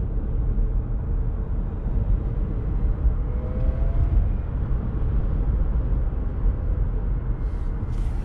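Chevrolet Bolt EV electric car, a 2019 Premier, driving under throttle, with a steady low road and tyre rumble filling the cabin and no engine note, holding constant throughout.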